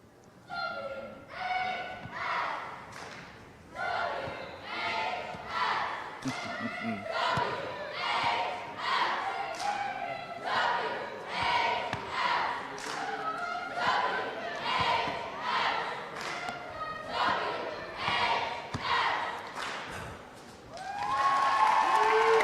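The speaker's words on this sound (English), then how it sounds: "Looks like we got one more cheer here to go." At a Wenatchee vs Moses Lake girls basketball game, a cheer squad chants in rhythmic shouted bursts punctuated by claps and stomps, roughly one pulse per second in a gym, ending in a swell of crowd noise.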